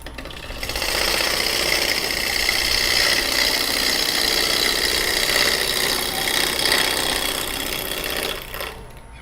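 A smaller wood lathe spins steadily while a gouge takes cuts on the bottom of a bowl at a woodturners' demonstration, making a continuous close whirring and scraping drone that starts and stops abruptly.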